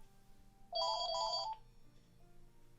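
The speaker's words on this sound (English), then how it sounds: "And there's the phone." A telephone rings indoors with one electronic ringtone burst of rapid warbling tones lasting under a second, moderately loud over a quiet room hum during a model-kit building session.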